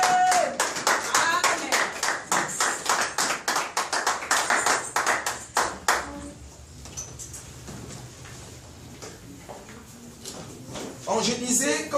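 A church congregation claps in a dense run of loud, rhythmic applause for about six seconds. Chatter and voices follow, then a short burst of clapping returns at the end.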